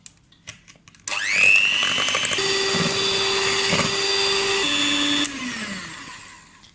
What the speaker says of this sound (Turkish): şeker ile yumurtaları güzelce boza kıvamına gelene kadar çırpıyoruz